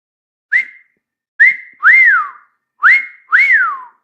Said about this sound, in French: Je siffle bien